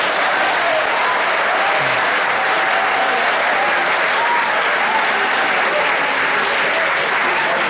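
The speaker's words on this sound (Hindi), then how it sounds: "मंजूर है तो ताली बजा दीजिए।" A large crowd at a college old-students association gathering claps loudly and continuously, a dense, even wash of applause that holds for the whole stretch without letting up.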